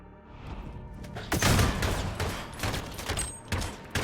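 AK rifle fire in Call of Duty: Modern Warfare, rapid bursts of shots with heavy thumps, mixed with distant battlefield noise, starting after a quiet moment and continuing in uneven clusters.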